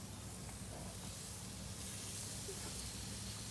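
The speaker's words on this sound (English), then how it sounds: "all we're gonna do is just lay them down on the grill and let them go to work." Chicken sizzles on a grill, a faint, even, continuous hiss with no breaks and no talk over it.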